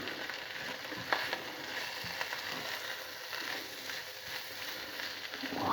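Roe deer meat frying in oil over high heat with garlic and pepper, stirred constantly; a steady close sizzle runs throughout with faint scraping and clicking stir sounds.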